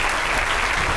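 An audience claps steadily for an award winner at a law student awards ceremony, a dense, loud and continuous burst with no voices.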